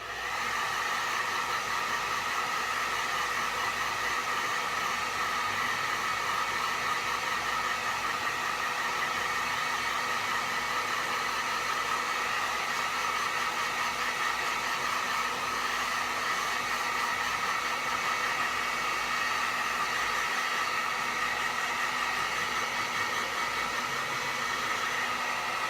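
A hair dryer blows steadily to dry acrylic paint on a small snowman painting, a loud, even whooshing roar that runs unbroken from start to finish with no talking.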